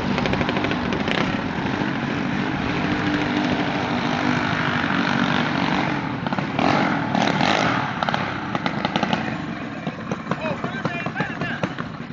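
A gasser bike's small gas engine runs steadily and loud throughout, a buzzing motor drone with people talking over it.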